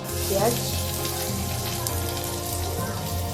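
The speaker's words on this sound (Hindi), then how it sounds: "प्याज के बाद प्याज भून ले, इसके बाद ही प्याज हल्का ब्राउन होने तक हम भूनेंगे।" Onion frying with cumin in a hot pan gives a steady, fairly loud sizzle and crackle throughout, with a low hum underneath and no speech.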